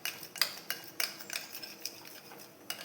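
Cake batter being mixed in a bowl with a metal spoon or whisk, giving a string of light, irregular clinks and taps against the bowl, close and fairly quiet with no voices.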